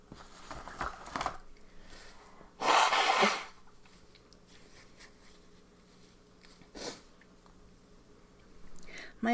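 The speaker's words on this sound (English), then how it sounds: "now I can't stop sniffling" A person indoors sniffling and snorting in a few short nasal bursts, one strong loud sneeze-like blast near the middle, with quiet breathing between.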